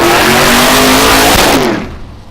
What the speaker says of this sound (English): truck on a test and tune